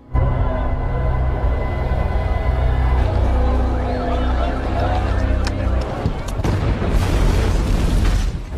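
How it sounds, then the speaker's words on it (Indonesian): A bomb detonating in an action film fills the scene with a loud, sustained, rumbling blast, with heavy low-end roar and debris noise swelling again toward the end; a musical score and crowd commotion are mixed underneath. "ia mengaktifkan bom pada tubuhnya hingga bidikan yang Pollard lakukan gagal akibat terjadinya ledakan"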